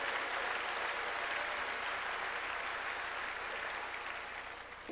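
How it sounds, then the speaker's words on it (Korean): Audience applause at an indoor church conference fills the space with a steady, dense clapping wash that holds for several seconds before fading slightly. "우리 격려의 박수를 드립니다."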